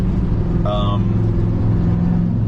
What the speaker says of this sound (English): That truck is very loud.